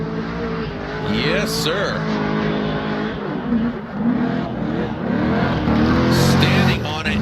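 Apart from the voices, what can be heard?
supercharged V8 BMW drift car on track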